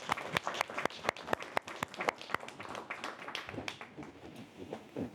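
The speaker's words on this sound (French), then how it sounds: "On peut applaudir Madame Lepage." Audience at a public meeting claps for Corinne Lepage, a few close hands and a scattered room producing sharp distinct claps at first that thin out and fade toward the end.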